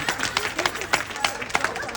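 Audience clapping during a women's summit keynote in Atlanta, with uneven, scattered claps rising and falling over a murmur of crowd voices.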